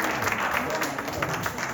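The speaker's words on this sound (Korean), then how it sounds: "또 박수 한번 드릴게요." Short burst of applause from a church couples' group audience at a CPR and Heimlich training session, dense and steady clapping close by for under two seconds.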